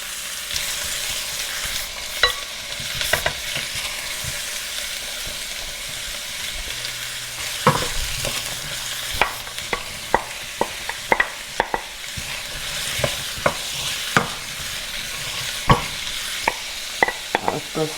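Onions and green seasonings frying in a pan for a chickpea curry, a steady close sizzle punctuated by many sharp clicks and knocks of a spoon stirring against the pan, with no talk.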